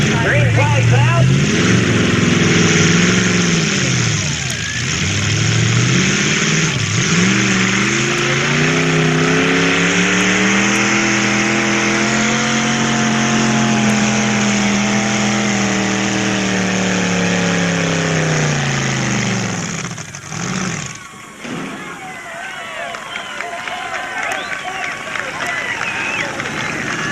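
Two-wheel-drive pickup trucks race at a 1991 event in Marshall, Missouri, their engines roaring loud and steady as they go down the track, pitch rising and falling, with a crowd and announcer audible underneath.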